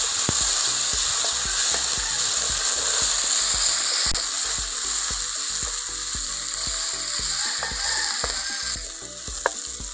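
Onion with ginger garlic paste fries in a pan, a steady close sizzle with repeated scraping and clicking of a spoon stirring throughout, no voices.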